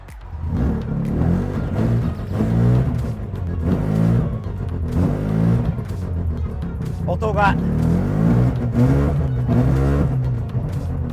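A Mazda RX-7 rotary engine rumbles unevenly as it starts, suspected of fuel vapor lock, its revs swelling and sagging in rough pulses, loud and close, with a voice speaking at times.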